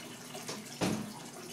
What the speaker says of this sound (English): No, he's going under the waterfall.